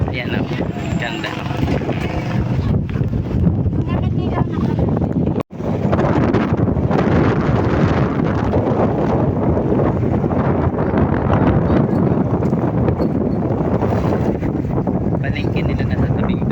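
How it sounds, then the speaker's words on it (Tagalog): Strong wind buffets the microphone by the sea at a seaside market in Guiuan, Eastern Samar, a loud steady rumble across the whole stretch with voices faintly mixed in. "Pwede lang malakas yung hangin"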